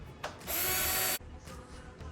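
A power drill whirs for about half a second as it drives a screw into a Shelby Cobra replica's hood panel, bracketed by faint ticks and handling noise in a quiet shop.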